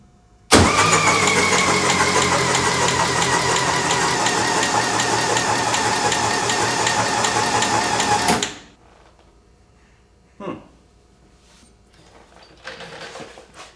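A car engine fitted with new CB Performance square port heads cranks over for about eight seconds in a loud, steady starter churn that stops abruptly, followed by quiet and a few faint clicks and shop noises.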